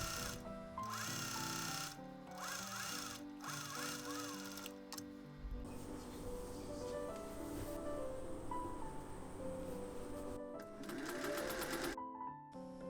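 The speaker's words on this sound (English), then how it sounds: "With right sides together, sew the sleeves to the bodice pieces." A sewing machine stitches sleeves to the bodice pieces of a dress sewn right sides together, running in bursts of rapid, steady mechanical whirring with brief pauses between, close and fairly loud.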